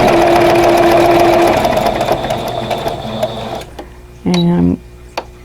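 A domestic sewing machine quilting lines on a pillow cover stitches with a loud, steady hum for several seconds, then slows and stops, followed by a short mechanical whir and a couple of soft clicks.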